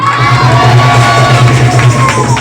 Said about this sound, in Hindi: पूरी चर्च जोर से बोले आमीन।